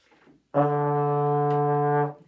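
A single long trombone note on D held steadily for about a second and a half, full and close, starting cleanly after a brief quiet moment.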